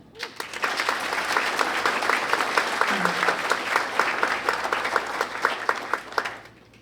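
An audience at a high school graduation ceremony gives graduates a long round of applause, many hands clapping steadily in a large room before tapering off with a few last claps.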